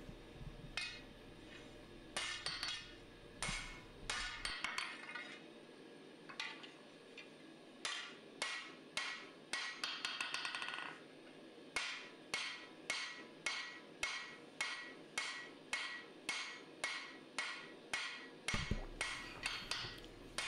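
Repeated hammer blows on a Musso Bowie blade forging its bevels, striking in steady bursts of ringing metallic strikes, fairly close and loud, with a brief low hum at start and end.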